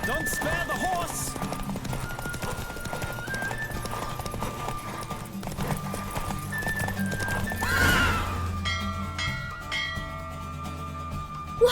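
A horse gallops with rapid clip-clopping hooves in The Witcher 3, neighing loudly partway through, while music plays underneath and a voice talks; the hoofbeats fade near the end, leaving ringing bell-like tones.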